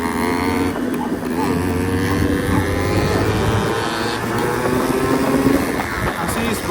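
Several Yamaha RX two-stroke motorcycles riding together in Kathmandu, their engines buzzing and revving continuously in a dense, raspy drone, close and loud throughout with faint voices beneath.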